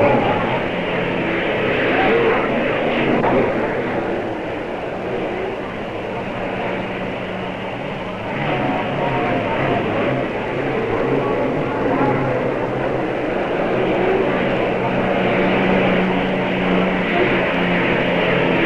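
The Slo-Mo-Shun IV hydroplane racing boat, with a two-bladed propeller turning near 12,000 rpm, crossing the finish line at the 1953 Gold Cup in Seattle; a continuous distant engine drone that holds steady throughout.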